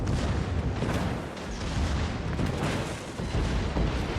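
Heavy battleship gunfire from a North Carolina in World of Warships: a dense, continuous wall of deep booms and rumbling blasts that fills the whole stretch with no pause and no talk over it.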